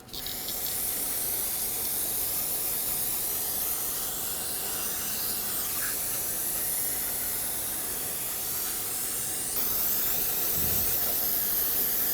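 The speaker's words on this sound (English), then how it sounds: "I'm going to clean them off with some brake parts cleaner, just kind of spray it in the area" Aerosol brake parts cleaner sprayed onto the engine of a 1997-2006 Jeep Wrangler 2.4L during a timing belt and water pump job, a loud continuous close hiss running the whole time with slight changes in pressure.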